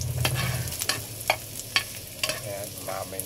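Onions sautéing in a pan: a low sizzle runs underneath while a spatula scrapes and taps the pan in irregular strokes, sounding close.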